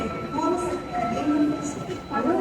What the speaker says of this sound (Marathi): आता मी जिथे आहे ते आहे ओसाकामधील मेट्रो स्टेशन